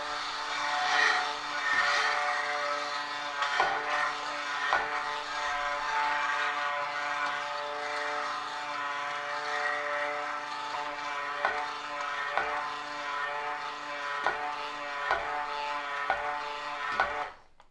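Stick blender whirring through soap-making oils toward emulsification, a steady motor whine with strong harmonic hum, broken by regular brief knocks and clicks as it moves in the container, cutting off at the end.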